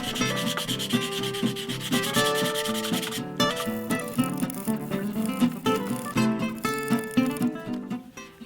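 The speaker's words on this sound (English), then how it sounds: "do a bit of finish sanding" Close, steady rhythmic rubbing of 240-grit abrasive roll finish-sanding a wooden handle for a Stanley 101 plane, a repeating back-and-forth rasp with no talk.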